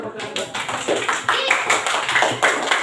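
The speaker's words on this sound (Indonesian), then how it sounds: "Tepuk tangan." Grade 4 children in a classroom clap their hands together in a quick, rhythmic pattern, loud and close, with voices chanting along throughout.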